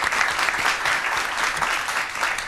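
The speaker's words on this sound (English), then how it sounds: "That deserves another round of applause." Audience applause following a bossa nova number by a school faculty jazz band, dense and steady clapping that fills the whole stretch at an even level with no voices.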